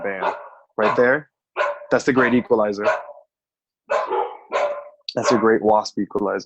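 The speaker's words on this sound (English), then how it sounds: "Sorry about the dogs." Several excited dogs bark and yip indoors, close by, mixed in with someone talking over them in short bursts.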